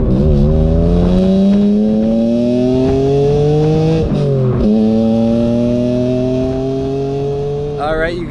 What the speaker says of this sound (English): you guys can listen to that dying exhaust note